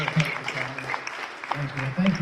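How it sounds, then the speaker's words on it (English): An audience at a Summit County political convention applauds for a woman named Melanie, a steady wash of clapping over about two seconds with a low hum of voices mixed in. "Can you all give her a round of applause?"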